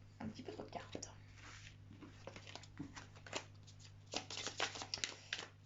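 Tarot cards are shuffled by hand in a quiet room, soft riffling and flicking bursts coming in irregular clusters, close and faint over a low steady hum.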